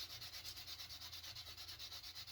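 Sandpaper rubbing back and forth between the frets of a homemade cigar box guitar neck, a steady rhythmic scratchy sanding stroke repeating rapidly and evenly, close and quiet with no talking.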